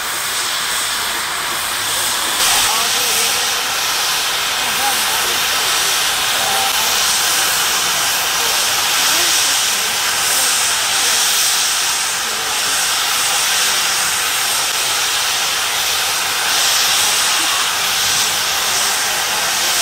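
Steam ploughing engines at a steam and country fair, a John Fowler single-cylinder engine running with a steady broad hiss and rumble throughout, loud and continuous with no talk.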